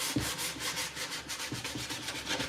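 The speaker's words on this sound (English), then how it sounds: "I'm gonna make a little bit of noise and distress this. And this is just some old beat up used 220 grit." Old, worn 220 grit sandpaper rubbed quickly back and forth over a piece of furniture to distress it, a close, steady, rhythmic scratchy rasp with no talking.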